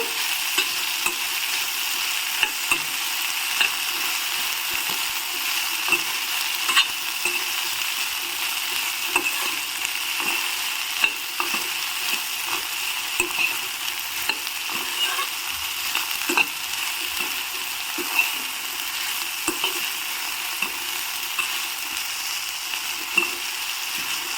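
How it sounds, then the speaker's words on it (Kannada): About a quarter kilo of chopped okra sautés in a pan over tempering for a Mysore Brahmin-style gojju, a steady close sizzle with frequent scraping stirs throughout, no voices. "ಒಂದು ಕಾಲು ಕೆ ಜಿ ಆಗೋಷ್ಟು ಬೆಂಡೆಕಾಯಿನ ಹೆಚ್ಚಿಬಿಟ್ಟು ಹಾಕಿದ್ದೀನಿ ಇದನ್ನು ಚೆನ್ನಾಗಿ ಬಾಡಿಸ್ಕೋಬೇಕು"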